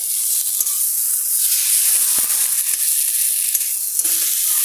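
Vegetables fry for potato dal with a steady, close hiss and crackle, broken by a few soft utensil taps, with no voice present.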